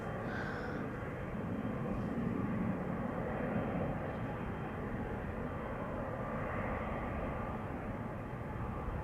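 A distant Boeing 777's engines spool up at an airport, humming and rumbling steadily in the background, a continuous broad roar with no voices.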